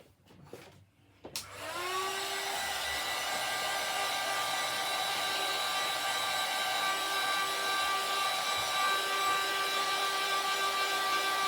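A heat gun switches on after a couple of soft handling clicks and blows a steady, loud, high whining hiss over pearlescent acrylic paint, holding constant to the end.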